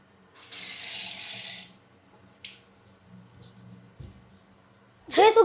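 A bathroom tap gushes into a sink while someone brushes their teeth, with a burst of running water followed by quieter scrubbing and rinsing noises and a voice speaking briefly at the end.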